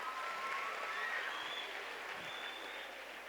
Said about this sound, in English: Nice, but give a wonderful applause.